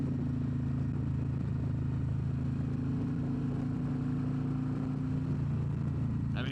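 A Harley-Davidson CVO Road Glide ST cruises in fourth gear through bigger turns, giving a steady, even engine drone with wind rush and no clear revving, heard from the rider's position.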